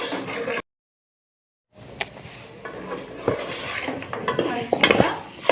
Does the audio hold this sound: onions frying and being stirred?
yes